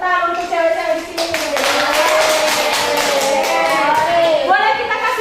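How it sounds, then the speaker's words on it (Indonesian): Schoolchildren in an Indonesian classroom break into loud, sustained clapping that fills several seconds, rapid and dense with children's voices mixed in. "Kasih tepuk tangan untuk cewek-cewek di sini."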